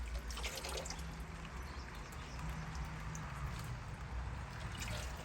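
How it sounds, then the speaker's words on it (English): A small decorative water feature in a lakeshore garden trickles steadily, a continuous splashing wash of water close by with no talk over it. "small water feature"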